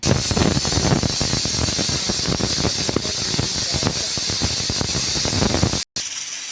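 Steam hisses loudly and continuously as a pressure cooker holding dal with pumpkin is opened, a dense, steady rush that runs for several seconds before cutting out abruptly.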